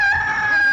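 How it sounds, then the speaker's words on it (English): Rooster crowing at daybreak, one short loud close call, sustained and bright, heard on its own. "Go ahead and crow."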